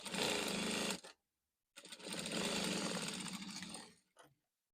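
Two bursts of sewing machine stitching close a jumpsuit's upper bodice side seam: a short run, a pause of silence, then a longer run ending in a brief final whir.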